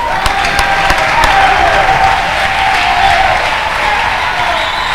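A church congregation breaking into loud, sustained applause for the Lord, dense crowd clapping with scattered cheers filling the hall, close and steady throughout.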